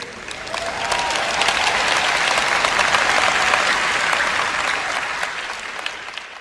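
An audience at a Joyce Meyer church talk applauds in a dense, sustained wave of clapping that swells, holds steady and slowly thins over several seconds.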